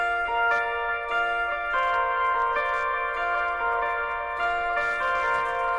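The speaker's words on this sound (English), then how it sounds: "It's actually an octave up when I put the POG on" An electric guitar riff played through a POG octave pedal, an octave up, sounds bright and bell-like, with sustained shimmering notes picked in a steady sequence, clear and close, with no voices.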